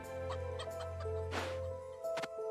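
Chicken clucks from the Vagante video game: a run of short, bright clucks over a steady game music drone, followed by a louder burst of squawks near the end.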